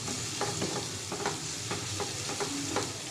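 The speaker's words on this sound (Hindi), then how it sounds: "अच्छी तरह से फ्राई करेंगे और सॉफ्ट होने तक हम इसे फ्राई करेंगे" Onions and green chillies fry in a pan with a steady, moderate sizzle, punctuated by soft, regular scraping strokes as they are stirred, close and unaccompanied by talk.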